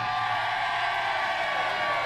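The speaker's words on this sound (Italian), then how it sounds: "Un urlo per l'Inter!" A crowd at an Inter versus Milan YouTuber League football match roars a loud, sustained cheer for Inter, a dense wall of shouting voices for about two seconds.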